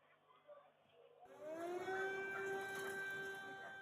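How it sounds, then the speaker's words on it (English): Air raid sirens ring out across Lviv in western Ukraine, starting abruptly after faint background sound and rising into a sustained, wailing tone that holds steady at moderate loudness. "Civilians hurry to take shelter as air raid sirens ring out across Lviv"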